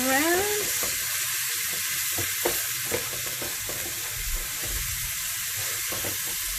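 Garlic and ginger sizzle and fry steadily in a hot pan while being stirred, a continuous close hiss with small scraping knocks throughout.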